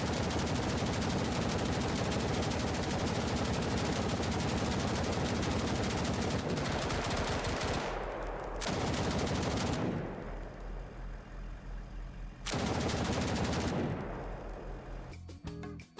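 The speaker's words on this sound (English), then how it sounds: "we did a quick exercise on a 2-gun Mad Minute" Dense sustained automatic gunfire from two machine guns firing together in the video game BRM5, a loud continuous roar that breaks off, resumes in bursts, then stops.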